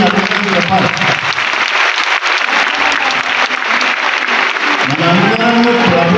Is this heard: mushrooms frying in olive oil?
no